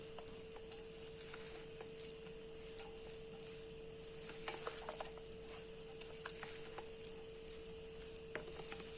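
Vegetable biryani with frozen veg and biryani dal being mixed in a pan, with soft irregular scraping and stirring clicks over a steady sizzle and a constant hum.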